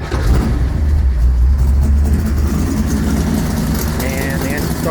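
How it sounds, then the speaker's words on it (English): A 1957 Borgward pro street car engine fires up and settles into a loud, deep, rumbling idle close by, steady for several seconds, with speech faintly mixed in. "and the engine starts up"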